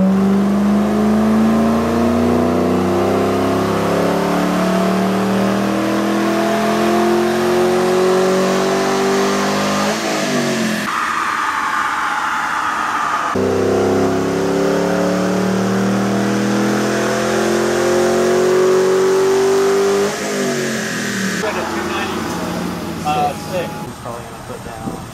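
A twin-turbo 5.0 Ford Mustang roars through two full-throttle dyno pulls, the engine note climbing steadily in pitch before abruptly cutting off, loud and close, with voices talking over it.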